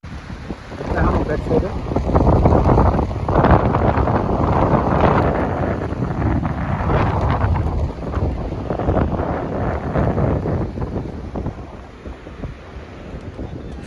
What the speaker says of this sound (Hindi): कितना ज़्यादा हवा चल रहा है